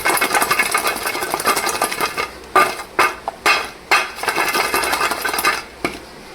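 Crispy homemade pop rings sprinkled with spice mix and tossed in a bowl: a steady dry rustle and rattle, then several sharp clattering bursts in a loose rhythm, close and clear with no voices.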